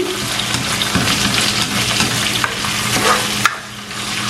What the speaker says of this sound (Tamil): இப்போ இதை போட்டு ஒரு ரெண்டு அல்லது மூணு நிமிஷம் பொரிய விடுவோம்